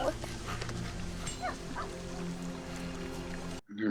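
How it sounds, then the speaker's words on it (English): A dog whimpers and yips in a TV drama scene, several short whines over a dense background of music and ambient sound, with voices faintly mixed in before an abrupt cut. "You talking to dog like it's Lassie."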